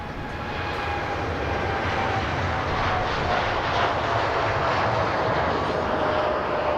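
Etihad airliner departing Manchester Airport, a loud continuous jet-engine roar with a rising whine, sustained throughout the takeoff.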